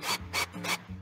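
Drilling pilot screw holes in an e-bike frame painted matte black, three broad rasping bursts of bit biting into the frame, loud and close with brief pauses between.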